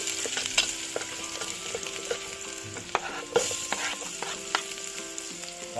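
Garlic and onion sauté in a pan at a riverside car-camping cookout, a close, busy sizzle with frequent sharp clinks and scrapes of a utensil stirring against the metal.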